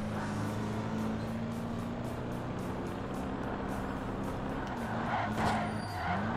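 A race car engine in the video game Ford Racing 3 holds a steady, buzzy drone that rises slightly near the end, with no talking.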